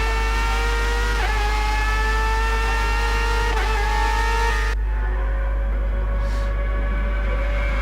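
Formula-style race car engine at the Interlagos pit exit in a racing video game, a steady high-pitched whine holding several harmonics and dipping briefly twice before cutting off abruptly, leaving faint quiet.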